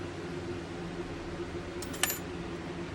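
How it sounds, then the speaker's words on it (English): A loud fan runs steadily in a workshop during jaw harp making, a constant broadband hum with low tonal bands, broken near the end by a brief metallic clink. "sorry about the fan. I just realized that was probably pretty loud"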